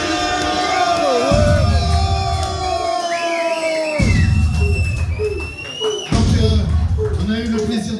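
A crowd at a live café concert cheers, whoops and shouts loudly for a guest performer, the roar swelling in bursts with a brief lull in between.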